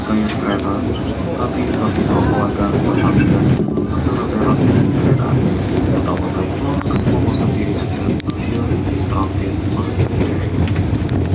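KRL commuter train rolling into Manggarai transit station, heard from inside as a steady loud rumble of wheels and carriage noise with wind buffeting, continuous throughout with faint voices in the background.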